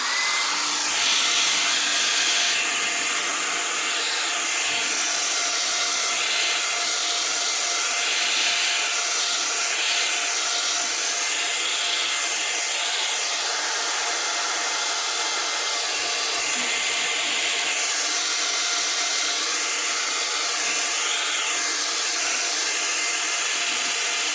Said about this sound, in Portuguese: Vou-lhe dar só um bocadinho de secador sem muito calor, a uma certa distância.